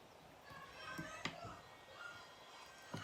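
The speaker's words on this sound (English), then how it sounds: "You can hear my boys mucking around in the background." Faint, distant children's voices and playful shouts in the background, with a few light taps and knocks nearby.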